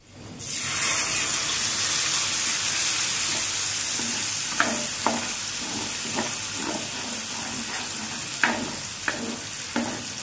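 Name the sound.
tomato paste frying and being stirred in a pan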